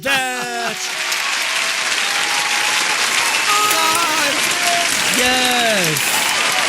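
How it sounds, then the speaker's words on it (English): Studio applause sound effect greeting a guest on a talk show, a steady burst of clapping and crowd noise lasting several seconds, with tonal whoops and cheers rising over it. "the applause has got to be ready"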